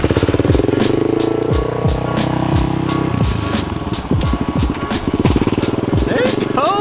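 A Yamaha Raptor quad accelerating close by, its engine revving up and dropping back repeatedly as gears shift, with sharp pitch sweeps, a buzzing exhaust note and rapid ticking pulses throughout.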